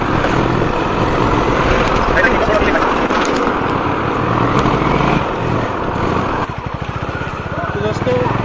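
A Honda Highness CB350 motorcycle engine runs steadily on the road, a continuous loud rumble with wind noise and a brief shift in tone near the end.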